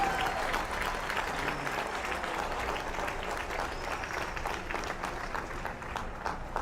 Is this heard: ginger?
no